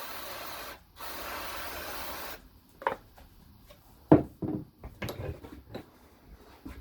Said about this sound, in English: Give it a spritz off.